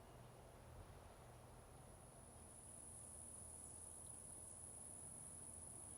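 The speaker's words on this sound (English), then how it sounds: "it's also very nice to just like hear the sound of the crickets for a second too" Crickets chirp faintly and steadily outdoors, a thin high continuous trill over low background hum, with no voices.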